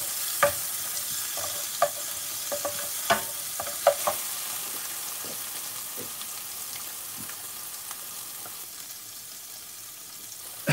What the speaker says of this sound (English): I'm going to cook it until the sizzling stops